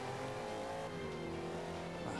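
Steady engine hum and tire noise from a car lapping a short track in Forza Motorsport 5, the pitch sliding slightly as it takes a corner, continuous and fairly quiet with no voices.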